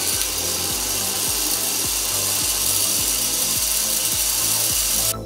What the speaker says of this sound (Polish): Po tych wszystkich wydrukach wentylator chłodzący radiator hotendu zaczął niemiłosiernie terkotać.